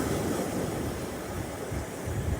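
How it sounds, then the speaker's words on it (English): Ocean waves wash on a shore as a continuous broad rushing roar, steady and fairly near, with some wind over the microphone. "So I'll leave you with listening to a few more waves."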